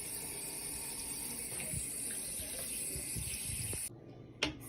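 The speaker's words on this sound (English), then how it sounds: "a baker always washes their hands. Wash it really good." A kitchen tap runs steadily while hands are washed beneath it, a close, continuous hiss of flowing water that cuts off near the end, followed by a brief clunk.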